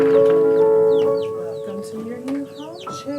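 Chickens cluck and chirp close by, with other bird calls mixed in over a steady hum that fades after the first second.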